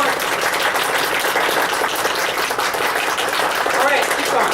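Audience members at a seminar clap as rapidly as possible, a thick, unbroken roar of fast hand claps sustained at an even level throughout.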